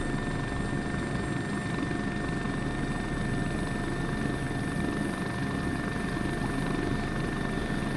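Helicopter lifting off from a sloped spot on an Austrian mountain tour, a steady loud rotor and turbine roar with a continuous whine, heard from close inside the cabin and filling the whole clip.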